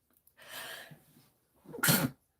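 A single sharp sneeze, preceded by a softer breathy inhale, close and fairly loud with no talking.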